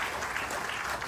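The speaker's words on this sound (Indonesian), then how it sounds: "beri tepuk tangan bagi Allah kita" Congregation applauding during a church service sermon, a steady wash of dense clapping held at an even level throughout.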